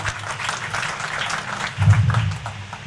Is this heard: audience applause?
yes